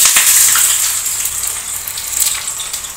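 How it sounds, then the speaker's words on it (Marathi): Onions frying in hot oil for a vegetable biryani, giving a steady, dense sizzle with crackling hiss that stays fairly loud and close throughout, with no talking. "अशा प्रकारे कांदा तळून झालेला आहे"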